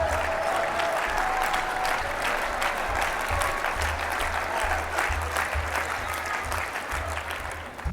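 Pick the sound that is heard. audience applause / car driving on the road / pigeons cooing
audience applause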